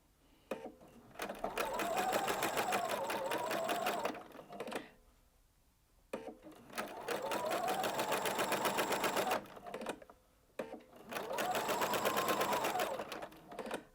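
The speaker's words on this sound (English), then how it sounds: "as I sew the next line of stitching, I just want to stretch the fabric out" A sewing machine stitches shirring lines into stretched fabric, running in three long, steady, whirring bursts, each a few seconds long, with short pauses between them, close and clear.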